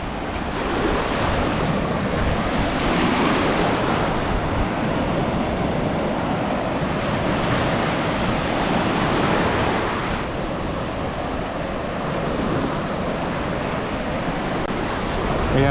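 Ocean waves roll and break steadily on a Florida white-sand beach, a continuous loud wash of surf with gusts of wind buffeting the microphone and no voices.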